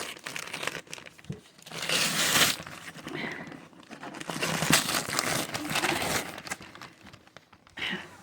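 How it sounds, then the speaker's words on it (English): Paper being cut and torn open on a subscription mail box during an unboxing, with irregular crinkling, ripping and crunching bursts close by, loud in several stretches and no talking. "I'm just going to cut the paper and I'm going to unbox it"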